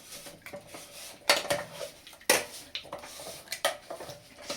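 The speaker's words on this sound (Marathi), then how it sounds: "हा गूळ असा मिक्स करायचा." A spoon stirring jaggery into wheat kheer in a pot, scraping and clinking against the metal in irregular close strokes with a few sharper knocks, no voices.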